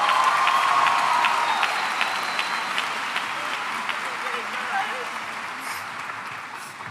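Applause from a high school commencement crowd for the choir and music department, loud at first and slowly tapering off, with scattered cheers and some talk mixed in.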